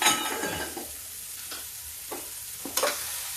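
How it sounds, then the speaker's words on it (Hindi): Potatoes and vegetables fry in a pan with little oil, giving a steady soft sizzle broken by a few scraping stirs and light clinks of a spoon against the pan. "अब ये अलग से हम फ्राई कर लेंगे तो इसका थोड़ा कच्चापन गायब हो जाता है"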